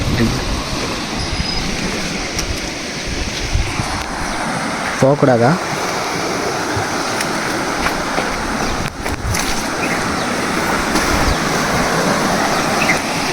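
Water rushes steadily through the Palakkarai aqueduct bridge near Perundurai, Erode, a loud continuous roar with a brief spoken voice over it.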